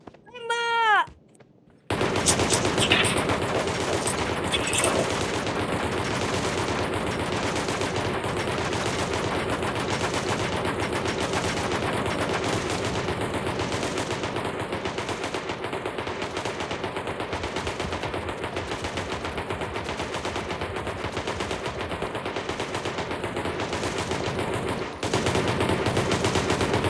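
Rapid, sustained gunfire from soldiers rolls on loud and nearly unbroken for about 25 seconds, with a pulsing rhythm, after a short opening of high, meow-like tones.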